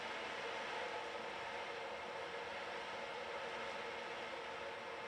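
Beads roll inside an ocean drum, making a soft, steady swishing hiss like distant surf that holds evenly throughout, faint and without voices.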